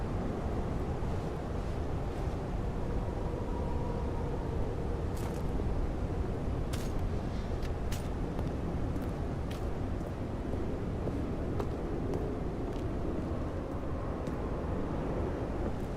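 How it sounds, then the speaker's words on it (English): Wind howls outside, a steady low, broadband roar with faint rustles and a few brief ticks, distant and fairly quiet, with no talking over it. "Sound of wind outside."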